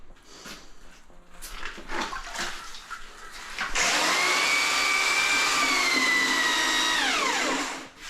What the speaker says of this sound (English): This is how I mix my mud.